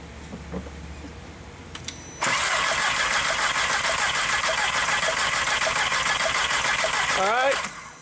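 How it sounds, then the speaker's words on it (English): A 1.8T car engine with misfire codes P0302, P0303 and P0300 cranks steadily with a rapid, even chugging during a compression test, running for several seconds, then stops abruptly; a few faint clicks precede it. "we're going to crank the engine and see what it does"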